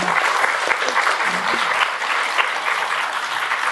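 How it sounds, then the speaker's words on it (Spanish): Sustained audience applause for a professor after her lecture at an academic debate, loud dense clapping from many hands, even and unbroken throughout. "Gran aplauso a la profesora doctora Zarela Paz"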